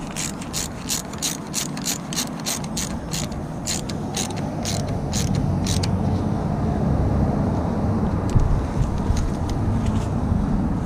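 Rapid ratcheting clicks from a socket wrench tightening bolts on a Mitsubishi D1800 / KE95 / ND diesel injection pump during an overhaul, a quick burst of close, crisp clicks followed by continued mechanical rattle and background hum.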